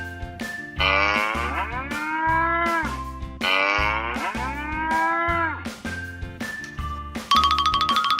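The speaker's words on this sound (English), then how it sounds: "Cow." A cow lets out two long, loud, sliding moos, one after the other, over a bouncy backing tune with a steady beat, ending in a bright chime.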